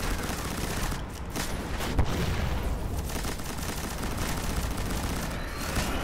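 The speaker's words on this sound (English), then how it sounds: "we do have a heavier machine gun here, which is the one you would use to destroy this guy" Dense, continuous gunfire from a heavy machine gun in the Destiny alpha shooter, loud and sustained with thudding low rumble and occasional sharper bursts, no voices over it.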